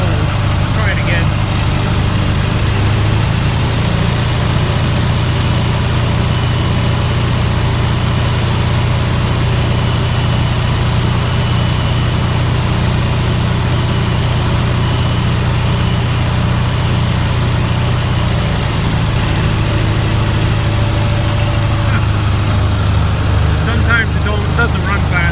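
A tractor engine runs in cold weather, a loud, steady low rumble that holds for the whole stretch, with slight shifts in speed as the linkage is adjusted by hand.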